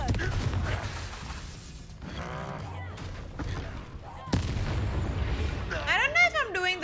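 A spell explosion bursts in the Hogwarts Legacy video game, a sharp crack and boom amid battle noise, followed by a rising magical whoosh, with a voice shouting over the action.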